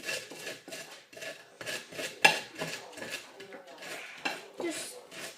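A knife spreads butter over bread as a Christmas snack, making repeated short scraping strokes in an uneven rhythm with an occasional sharper clink, close and fairly quiet.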